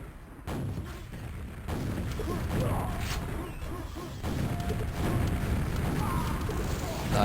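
Rocket explosions in a competitive team shooter match, heavy booming blasts and rumbling impacts layered over steady game noise, moderately loud and continuous.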